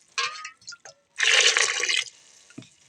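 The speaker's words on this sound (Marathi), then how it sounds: "ह्याच्यामध्ये असं पाणी टाकून घ्यायचं" Water splashes and pours in short bursts over mango seeds, then a longer steady pour into a pressure cooker for about a second, followed by a faint drip.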